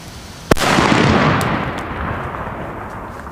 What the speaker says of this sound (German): Böller.